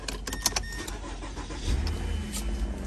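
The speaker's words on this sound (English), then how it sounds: "Gonna start the vehicle right up." A 2014 Mazda CX-9 Grand Touring starts by push button: a few quick clicks and chimes, then the engine cranks and catches partway through and settles into a steady low idle.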